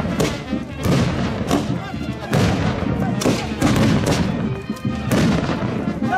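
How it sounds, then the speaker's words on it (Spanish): Bombardas firecrackers burst at a December 8 festival, a rapid barrage of loud booms and cracks repeating in dense clusters, with voices faintly audible beneath. "Empezamos con las bombardas."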